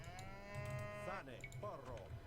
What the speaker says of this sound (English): So many cows.